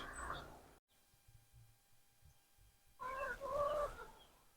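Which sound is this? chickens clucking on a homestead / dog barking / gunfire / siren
chickens clucking on a homestead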